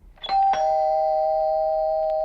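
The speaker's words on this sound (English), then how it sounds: "my doorbell rang" A doorbell rings once: a two-note chime struck close by, its second tone held and slowly fading.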